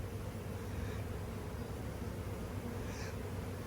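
A swarm of honey bees flies close by during a rescue, producing a dense, continuous buzzing drone with a few individual bees passing louder nearby.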